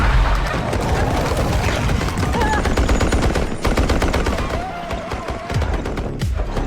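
Sustained rapid gunfire and heavy booming shots rattle continuously, loud and dense, with faint voices and a low rumble underneath.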